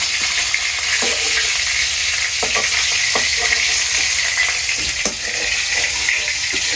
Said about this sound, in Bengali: ওই যে বোয়াল মাছের মাথাটা রয়েছে এটি ভাজি করে নামিয়ে